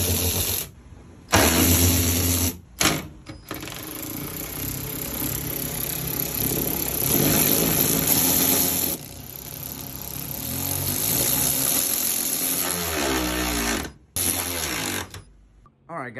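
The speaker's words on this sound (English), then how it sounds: "I was able to take some bolts off really quickly." A Hercules 12V cordless 3/8 extended ratchet buzzes loudly in repeated bursts while backing out bolts, its motor whirring close up with short pauses between runs.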